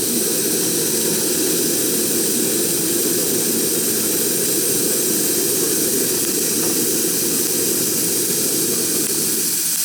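Live steam launch boiler firing during a first trial run, a steady broadband roar and hiss holding at an even, loud level throughout with no breaks.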